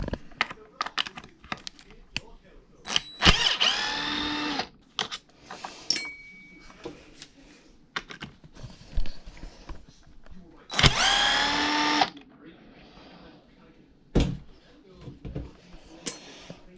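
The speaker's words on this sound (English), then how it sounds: "I'm going to unbolt the servo as well." A small power driver whirs in two short bursts while unbolting the steering servo on a Traxxas UDR radio-controlled truck, close and fairly loud, with scattered clicks and handling noise between them.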